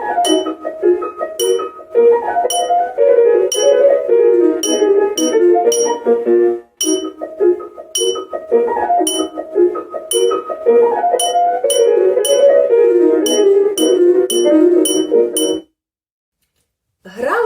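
Glass cups are tapped gently in a children's music lesson to imitate rain, producing bright ringing clinks and chimes in a lively, irregular pattern, with a tuneful melodic line underneath, then a sudden silence near the end.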